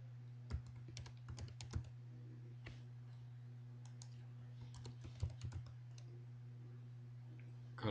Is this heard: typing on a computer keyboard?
yes